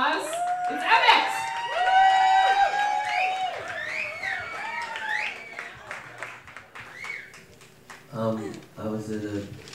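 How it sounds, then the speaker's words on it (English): Comedy show audience applauding and cheering for a comedian, a swell of clapping and whoops under an emcee's voice, fading out before the next speaker begins. "So give him a big round of applause."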